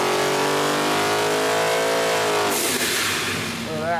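Small block Chevy 406 V8 screaming on a dyno during a rev sweep from 4,000 to 6,500 RPM: a loud, sustained, rising engine roar that cuts off sharply near the end and settles into a rumbling decay.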